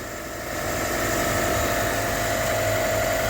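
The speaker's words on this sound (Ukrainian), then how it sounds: "Моторчик робить причудово." A small motor, on a car sitting on a tow truck, runs steadily and close by, a continuous even whirring drone that swells slightly in the first half second and then holds level.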